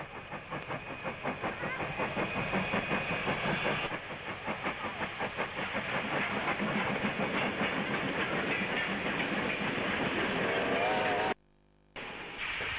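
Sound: vintage steam locomotives hauling a train

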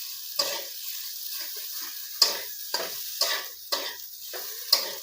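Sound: mixing spiced potato kachori filling in a pan

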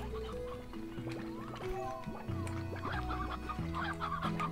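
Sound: hens clucking in video game Slime Rancher

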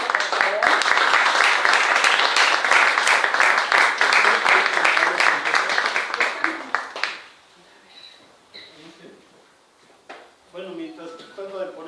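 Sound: audience applause

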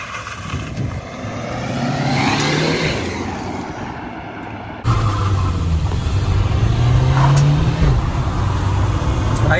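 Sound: Maruti Ciaz and Honda City cars in a drag race

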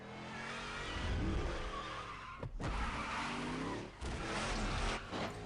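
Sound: car engine in Need for Speed: Undercover video game

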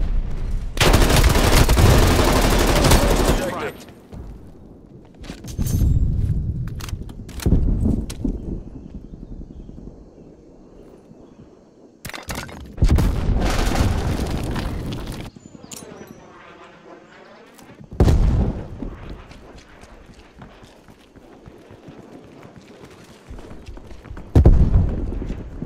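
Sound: artillery strike explosions in Call of Duty Black Ops Cold War video game

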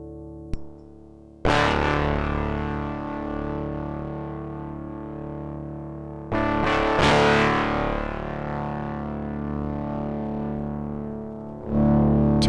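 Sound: Metasonix F-1 complex distortion pedal tube overdrive

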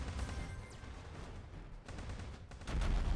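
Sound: mortar shell hitting, from the video game Block Fortress

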